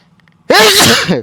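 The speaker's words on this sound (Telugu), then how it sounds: "సపోజ్ ఇప్పుడు నాకు బాగా తుమ్ములు వచ్చినాయి" One sharp, loud human sneeze bursts out close-up after a brief near-silent pause, then quickly trails off.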